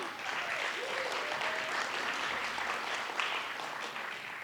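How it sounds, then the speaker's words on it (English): Applause from an audience at a school arts awards ceremony, honouring visual arts winners: dense, steady clapping that holds at an even, fairly loud level throughout, with no talk over it. "big round of applause for our visual arts winners"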